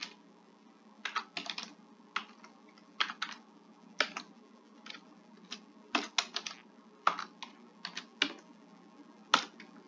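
Someone types a program name on a computer keyboard to compile a trapezoid-method program, with irregular bursts of sharp, close key clicks and brief pauses between quick clusters, and no talking.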